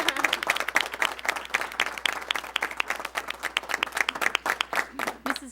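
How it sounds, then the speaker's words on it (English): A school board meeting audience applauds with fairly sparse, distinct hand claps in an irregular steady patter for about five seconds, moderately close and with no talking over it. "let's give the girls all a round of applause"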